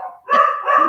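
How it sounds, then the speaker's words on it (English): Several household dogs bark in quick succession, close and fairly loud, with overlapping yips running through the whole short burst. "Oh, that's my dogs."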